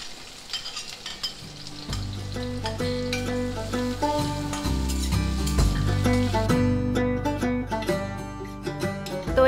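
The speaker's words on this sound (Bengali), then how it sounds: "এখন এর মধ্যে দিয়ে দিচ্ছি পেঁয়াজ, যেটাকে আমি গোল্ডেন ব্রাউন করে ভেজে নেব" Onions frying in oil in a pan for a tomato chicken curry, a steady hiss and crackle running under loud background music throughout.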